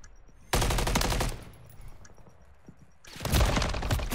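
Rapid gunfire bursts from a tactical shooter video game, a loud sustained volley at the start and another toward the end, with quieter crackling shots and a faint ringing tone in between.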